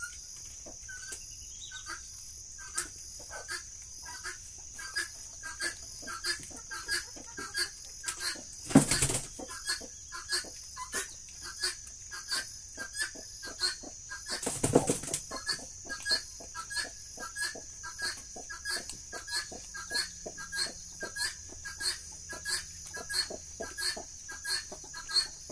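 Chickens clucking in a corn field alongside a pig, with steady rhythmic clucks and chirps over constant insect buzzing and a couple of brief wing flaps.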